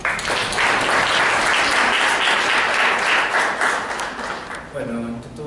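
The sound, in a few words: audience applause welcoming a speaker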